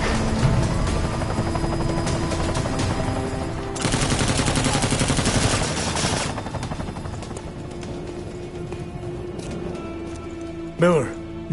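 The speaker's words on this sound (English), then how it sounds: "You've got to stop that chopper." A helicopter in the video game Deus Ex: Mankind Divided drones and whirs loudly amid bursts of machine-gun fire, with a voice speaking over the action and a sharp sweeping sound near the end.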